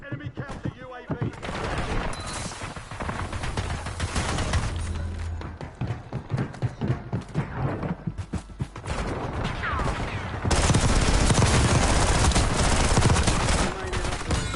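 Heavy gunfire in the video game Call of Duty: Warzone comes as rapid automatic bursts and repeated shots, with a dense, loud volley toward the end and brief game voice callouts mixed in.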